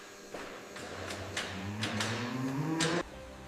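Several low, drawn-out moos from dairy cows rise and overlap in a barn, with faint shuffling and thuds in the background.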